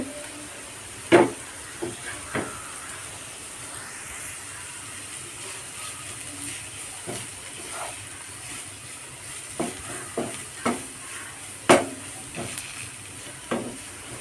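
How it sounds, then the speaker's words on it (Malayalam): Finely chopped cabbage stir-frying in a pan, a soft steady sizzle and hiss broken by occasional sharp clanks and scrapes of a spatula stirring. "അതിനോടൊപ്പം തന്നെ നമുക്ക് ഇട്ട് കൊടുക്കാം ചെറുതായിട്ട് കട്ട് ചെയ്ത കേബേജാണ് കേട്ടോ ഇട്ട് കൊടുക്കുന്നത്"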